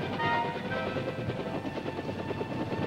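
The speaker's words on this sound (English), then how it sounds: "To spot enemy concentrations under the umbrella of dense jungle foliage, light observation helicopters were used." A light observation helicopter flies over dense jungle in wartime, its rotor giving a steady, muffled thudding drone at moderate distance with no talk over it.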